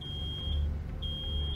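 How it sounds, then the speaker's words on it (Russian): A walkie-talkie beeping alarm in the video game Road 96 gives a high, thin electronic tone in two repeated bursts. A steady low rumble runs beneath. "это рация пищит"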